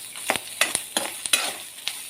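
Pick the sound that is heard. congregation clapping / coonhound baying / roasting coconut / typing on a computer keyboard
roasting coconut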